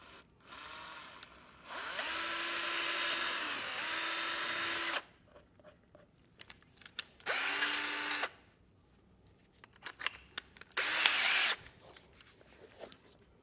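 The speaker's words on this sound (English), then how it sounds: "So we'll just carefully get these drilled out here." A power drill with a 1/8 or 3/8 inch bit bores holes in plastic during a brake controller install on a 2023 Chevrolet, in three loud whirring bursts of about three, one and one seconds, with quiet handling noises between them.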